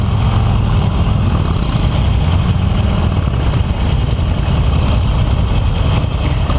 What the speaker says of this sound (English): I love when they start all the bikes at the same time